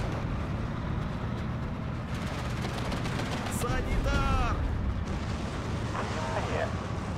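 Gunfire and artillery from the WWII strategy game Steel Division 2 rumble on continuously as a dense, roaring barrage, with sharp cracks and whistling shells scattered through it and no clear gaps.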